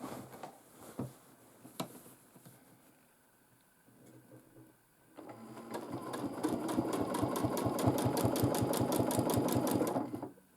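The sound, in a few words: domestic sewing machine quilting a large quilt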